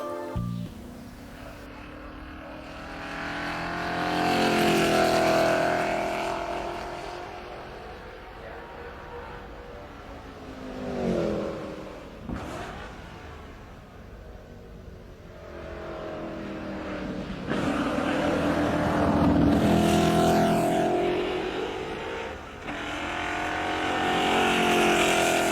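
A vintage Mercedes drives along, its engine swelling and fading in long surges with revving passes, loud and near throughout with no talking.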